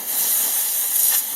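Brake cleaner hisses out of an aerosol can onto a rag during a dirt bike exhaust installation, a steady bright spray lasting over a second, close and fairly loud, with no talking.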